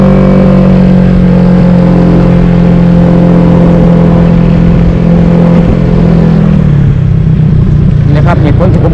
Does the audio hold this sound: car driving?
yes